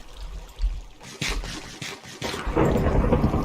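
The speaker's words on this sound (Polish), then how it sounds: "Jeszcze jakaś burza tam świruje" Thunderstorm rumble in Minecraft, building over a few seconds from low bursts into a loud, broad wash of rain-like noise, with no voices.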